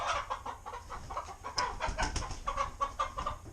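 Chickens cluck in a quiet, close chorus of short repeated calls, several birds overlapping in an uneven rhythm with no speech.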